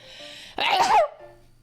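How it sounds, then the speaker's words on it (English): One loud, close human sneeze bursts out suddenly after a quiet pause, then fades quickly back to a faint background hum. "You guys get to hear my manly sneezes. They're really loud."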